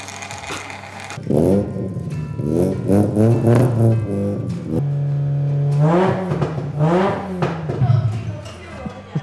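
A nearby rotary-engine car revs repeatedly at a drifting event, rising and falling in sharp bursts with a brief steady hold in the middle, loud and close.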